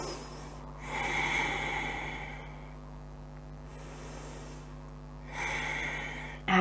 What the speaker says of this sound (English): Take another just 2 deep breaths.